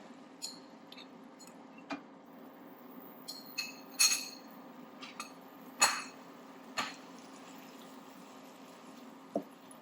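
Washed, double-ground beef mince going into a pan to fry gives a low steady simmer with scattered metallic clinks and scrapes of utensil on the pan, a few sharper knocks standing out over about ten seconds.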